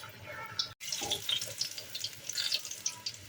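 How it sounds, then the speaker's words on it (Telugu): Jowar puris deep frying in hot oil, a steady close sizzle and bubbling with brief crackly bursts and a sharp break as something drops into the pan. "ఆయిల్ బాగా వేడైన తర్వాత ముందుగా మనం చేసుకున్న వాటిని ఒక్కొక్కటిగా వేసి కాల్చుకోవాలి"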